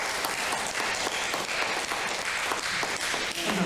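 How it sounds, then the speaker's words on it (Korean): Church congregation applauding at a Korean Sunday service during a flower presentation, steady dense clapping from many hands filling the room without pause. "박수로 축하하겠습니다."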